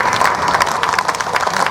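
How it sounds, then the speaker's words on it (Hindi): Audience at a Ramayana kathā gathering claps along in a steady, dense patter of hand claps, fairly close and continuous, with no talk over it. "एक बेर जोर से हाथ उठा ताली बजाए"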